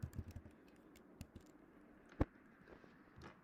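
Typing on a computer keyboard: faint, irregular key clicks tapping away at close range, with one sharper louder keystroke partway through, quiet background otherwise.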